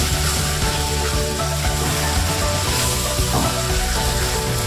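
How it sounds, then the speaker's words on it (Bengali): Pointed gourd fries with a ground paste of spices, poppy seeds and cashews, making a continuous dense sizzle with scraping stirs throughout. "দিয়ে এবার এই মশলাটার সাথে একটুখানি পটলটা কষিয়ে নেব।"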